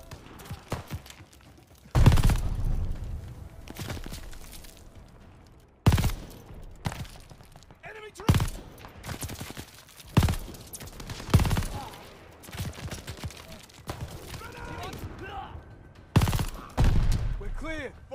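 Heavy gunfire from Call of Duty Vanguard: loud bursts and booming volleys break out at irregular intervals, with quieter battle noise and occasional voices in between.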